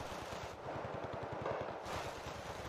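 Rapid bursts of MG3 machine gun fire in the Cold War strategy game Wargame: Red Dragon, a fast, even rattle of shots continuing through the whole stretch at a moderate distance, with no voices.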